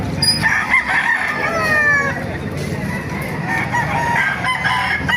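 Roosters crow repeatedly at the Baliuag pet market in the Philippines, several loud close calls overlapping amid clucking and general market noise.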